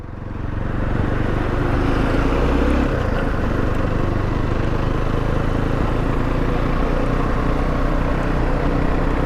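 An FB Mondial HPS 300 motorcycle engine labours in low gears with a loud, continuous, gruff drone that rises early on and then holds steady, close by and without talk.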